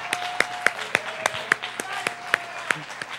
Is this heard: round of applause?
yes